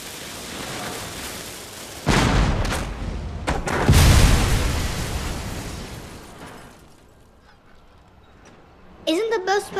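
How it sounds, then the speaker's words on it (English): Cannon fire in the video game Contrast: a loud, heavy booming blast around the two-second mark, another deep rumbling boom near four seconds that fades out slowly, then a voice speaks near the end. "You may fire when you are ready"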